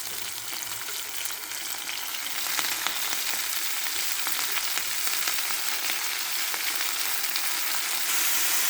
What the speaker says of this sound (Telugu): ఇలా కాస్త పచ్చిమిర్చిని వేగనియాలండి